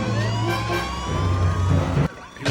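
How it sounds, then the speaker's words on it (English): Police sirens from the Batman animated series, wailing tones sweeping over the rumble of a moving vehicle, fairly loud and continuous before cutting off abruptly near the end. "the sirens were getting considerably louder"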